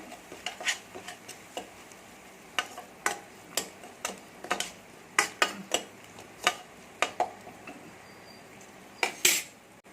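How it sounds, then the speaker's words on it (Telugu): A spoon clinks against a steel plate or bowl while mango pickle gravy is mixed into rice, a series of sharp, irregular metallic taps close by over quiet background. "టూ టేబుల్ స్పూన్ ఆవకాయ గ్రేవ్ వేయండి వేసి ఒకసారి కలపండి"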